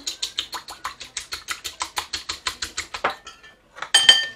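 A whisk or fork clicks quickly against a bowl as eggs are beaten for a salmon quiche cream filling, a steady brisk rhythm of about six strokes per second, close and clear, ending with a brief scrape.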